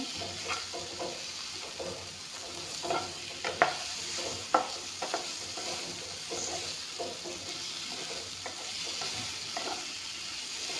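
Vegetables stir-fried in a pan, a steady close sizzle and hiss running throughout with repeated scraping clicks of a spatula against the pan, with no talking.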